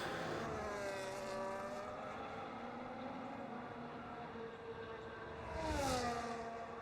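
Formula 1 race cars battling for position at the Chinese circuit in a racing game as a McLaren overtakes: sustained high engine whines shifting pitch through gears, with a car passing close and loud near the end.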